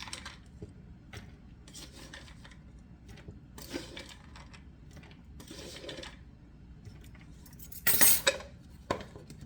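Metal spoons scoop nuts for banana nut muffins and tip them into a bowl: soft clinks and scrapes of cutlery against dishware come in scattered bursts, with a sharper clatter near the end, all fairly quiet and without speech.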